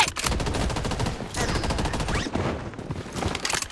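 A minigun fires in a battle royale shooter with a fast, dense rattle of shots in continuous bursts, close and loud, with short breaks and overlapping game effects.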